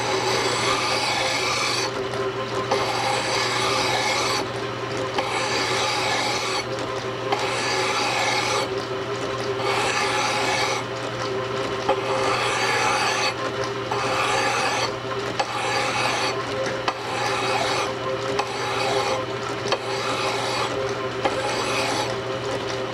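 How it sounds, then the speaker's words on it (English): Steady back-and-forth rasping of a hand file taking a few thousandths off a metal bullet reloader part, close and loud, in regular repeated strokes with no talking. "I think I'm just going to take it down with a file."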